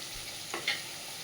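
Potatoes fry in a wok for meat curry, giving a soft, steady sizzle broken by one brief stirring scrape and clink. No voices are heard.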